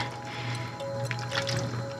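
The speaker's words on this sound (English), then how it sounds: "I am going to put the bones in here as a nice bit of marrow for the broth" Heavy beef plate bones lowered into a pot of water for pho broth, giving soft wet sloshing and dripping splashes close by, with a steady low hum underneath and no talking.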